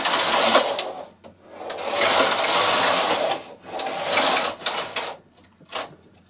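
A Singer knitting machine's lace carriage runs back and forth across the needle bed in a plain and fashion lace setup, giving loud, close mechanical whirring and clattering passes broken by short pauses.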